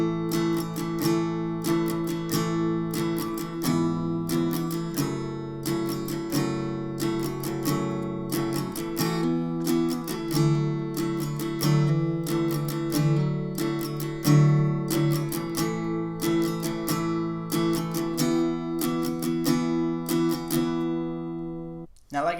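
An acoustic guitar plays a song at a slowed pace, evenly spaced strummed and picked chords with occasional hammer-ons, steady and close for about twenty seconds.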